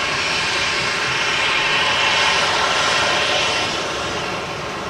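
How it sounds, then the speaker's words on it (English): A Ryanair airliner from Palma de Mallorca touches down at Manchester Airport and takes a rapid exit taxiway, its jet engines giving a loud, continuous roar that stays level before easing slightly toward the end. "This Ryanair just touching down, vacating in front of us from Palma de Mallorca."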